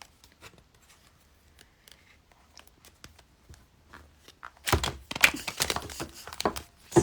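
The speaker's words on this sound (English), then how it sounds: "This deck doesn't want to shuffle." Oversized tarot-style cards are shuffled in a quiet room, with soft sparse taps and rustles giving way to a louder, dense flurry of riffling and slapping card noise near the end, close up.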